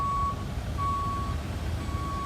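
A tow truck at a car crash scene reverses with a steady, evenly spaced series of high electronic beeps over a low engine rumble, at a moderate distance outdoors.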